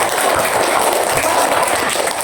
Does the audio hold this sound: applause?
yes